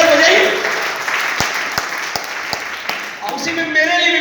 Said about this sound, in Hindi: पहले तो आपके लिए जोरदार ताली बजना चाहिए